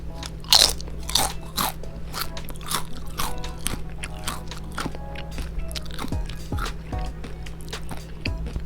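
Close, crisp crunches of someone biting into and chewing a firm Rainier cherry, a loud first bite followed by a steady series of wet chewing snaps.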